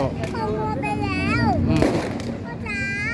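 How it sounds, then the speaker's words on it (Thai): Firecrackers crack amid the crowd at a Loy Krathong festival in Rangsit, with a sharp broadband burst standing out under continuous talk from an adult and a child nearby. "ดูดูประทัดแล้วดูประทัดสวย"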